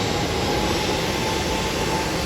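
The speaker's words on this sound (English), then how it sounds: "American Airlines now taxiing to runway 15 for her departure to Phoenix." An American Airlines jet taxis toward the runway at Hollywood Burbank Airport, a steady loud engine roar with broad rushing noise and a high whine that hold constant throughout.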